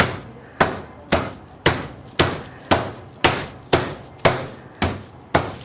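Ten heavy, evenly spaced thuds, about one every half second, as meat is pounded flat between film, each a sharp dull smack with a short decay, close and loud with no talking.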